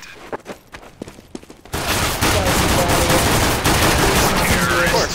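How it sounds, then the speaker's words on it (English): Gunfire in Counter-Strike: Global Offensive, a few sharp separate shots at first, then a dense loud burst of sustained automatic fire filling the rest, with no speech. "I got shot from behind."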